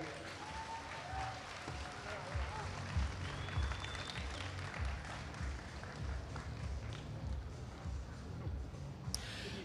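A big crowd applauds and cheers at the Olympic Esports Series finals in Singapore: a dense, steady wash of clapping that lasts throughout, with voices talking over it.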